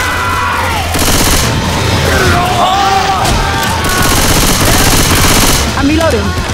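Dense rapid gunfire bursts in the Left 4 Dead 2 video game, loud and continuous, mixed with game effects and shouting voices.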